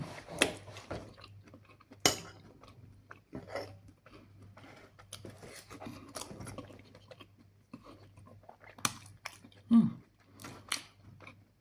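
Metal cutlery clinks and scrapes against a plate over a dinner of roasted potatoes, chicken breast and fresh vegetables, with soft chewing in between; sharp taps come sporadically, close and intimate, and no one speaks.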